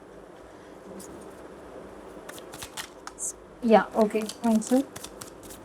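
Tarot cards being gathered up from a table into one stack, a short burst of papery shuffling and slapping up close, with someone speaking briefly before it.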